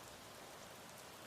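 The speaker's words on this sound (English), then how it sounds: "Outside, the rain picked up again." Steady rain hiss with dense pattering drops on a surface, faint and even throughout, no voices or other sounds.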